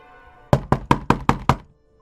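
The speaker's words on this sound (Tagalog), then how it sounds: "Biglang may narinig siyang malakas na katok mula sa labas ng kanyang pintuan" Six loud, evenly spaced knocks on a door from outside at night, each a sharp thud with a short ring-off, landing in a steady rhythm with no voices.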